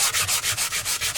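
Steady back-and-forth rubbing of a sanding block on a wooden guitar, about eight even strokes in a quick rhythm, close up and alone.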